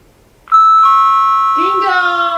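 A two-note doorbell chime rings loud and clear, its tones sustaining as a voice begins speaking over the fading ring.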